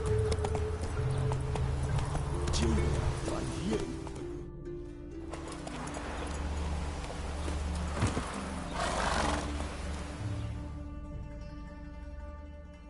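Roach, the horse from The Witcher 3, galloping in a rapid, steady run of hoofbeats, close and fairly loud, layered under continuous game music and ambient sound with no talking.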